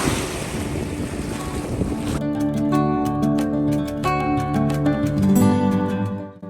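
Choppy waves on the Dead Sea in Jordan, a loud rushing wash of water and wind noise in the opening two seconds before music takes over.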